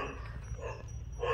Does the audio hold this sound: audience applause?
no